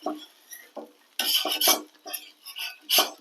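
Soaked bread slices being turned over in a hot pan for bread roast, with several clattering scrapes and taps of a utensil against the pan over a faint sizzle, no voices.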